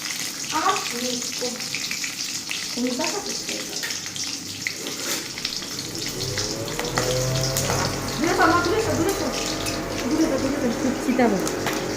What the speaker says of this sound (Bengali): দেখো কালো জিরা ফোড়নের সঙ্গে দিচ্ছি চার কাঁচা লঙ্কা